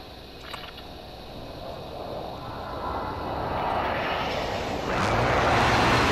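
An airstrike aircraft roars overhead in a video game shooter, a broad engine rumble that swells steadily louder as it approaches and passes close by.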